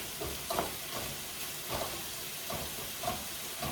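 Steak sizzling in a hot pan as it is turned, a steady broadband hiss of frying with soft scraping stirs and brief pops coming through at intervals, close and moderately loud, with no voices.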